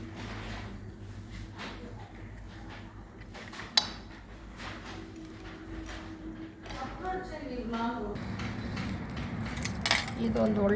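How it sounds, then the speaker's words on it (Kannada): A key chain is handled in a kitchen, giving a few scattered metallic jingles and clinks. They sound faint and close, with a sharp clink near the middle and louder rattling toward the end. "ಇದೊಂದು ಒಳ್ಳೆ ಸೂಪರ್ ಕೀ ಚೈನು."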